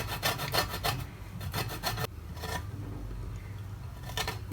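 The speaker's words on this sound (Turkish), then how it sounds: "Rendenin ince yeriyle limonlarımızın kabuklarını bu beyaz yeri çıkıncaya kadar rendeliyoruz." Lemon peel is scraped across the fine side of a kitchen grater in short rhythmic rasping strokes, close and fairly quiet, with brief pauses between groups of strokes.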